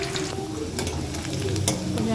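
Fried pumpkin is lifted out of a sizzling pan, with a spatula stirring and scraping close up over steady frying and a few soft clinks.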